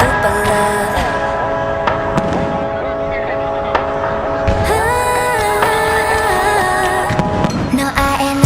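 Fireworks display at SM Mall of Asia for a Valentine's Day show, with dense crackling bursts and booms close by, heard under loud pop music playing throughout.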